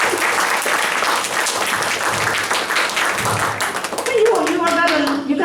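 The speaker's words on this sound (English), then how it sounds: "So give me a clap for that." Audience applause after a Hanuman Chalisa performance, loud and sustained clapping from a crowd filling the whole stretch, with some voices mixed in near the end.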